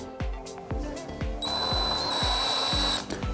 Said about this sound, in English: Got a small drill. Just going to go really gently so I don't break anything.